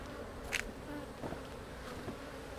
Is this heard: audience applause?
no